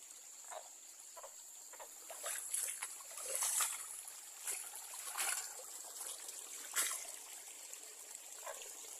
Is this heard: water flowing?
yes